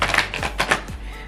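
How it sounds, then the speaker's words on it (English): A deck of cards being shuffled by hand, giving a quick run of soft, rapid clicking and riffling taps at close range for just over a second. "let's shuffle."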